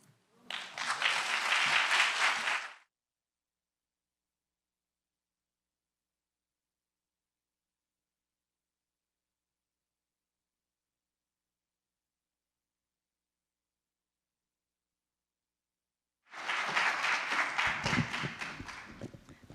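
Audience applause for poets at a fireside chat event, two separate bursts of steady clapping, each about three seconds long, divided by a long stretch of silence.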